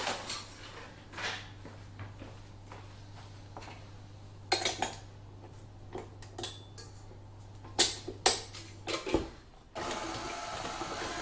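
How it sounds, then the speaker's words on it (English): Butter being whisked in a bowl for cake icing, with irregular metal-on-bowl clinks and scrapes in bursts over a steady low hum, close and fairly quiet. "Just whisk that so it's nice and fluffy"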